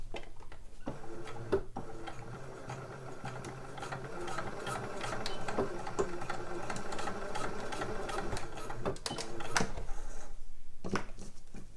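A sewing machine stitches a fabric slipper upper, a close mechanical run of rapid ticking needle strokes and gear chatter in bursts with brief pauses over about twelve seconds, moderately quiet, with no talking.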